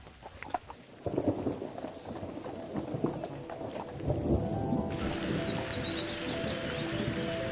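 An outdoor thunderstorm near horse stables brings steady rain hiss that swells louder partway through, with a low rumble and hoof-like clopping in the mix.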